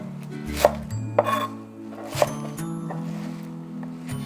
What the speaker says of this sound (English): Next, let's cut our green vegetables.